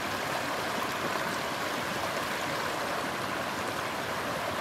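A backcountry creek flows steadily as a constant, even rush of water that continues unbroken throughout, moderately close, with no voices or other sounds on top.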